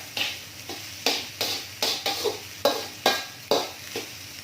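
A spatula stirs fried rice in a hot pan, scraping in about ten regular strokes roughly every half second over a soft steady sizzle, close and with no voices.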